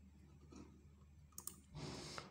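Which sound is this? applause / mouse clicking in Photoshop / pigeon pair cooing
mouse clicking in Photoshop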